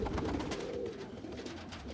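Pigeons, including a red-marked bird, cooing in a loft with a steady low murmur and soft bird calls throughout, fairly close.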